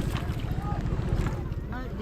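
Fishing boat engine running out at sea on a two-day trip, a steady low drone with wind and water noise, faint voices in the background.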